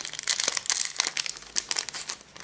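A Pokémon card booster pack is opened and the cards slid out, giving quick, close crinkling and rustling of foil wrapper in short bursts.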